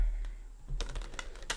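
A Mother Mary Oracle card deck is shuffled close by, giving a fast run of crisp, clicking card flicks after a brief quiet start.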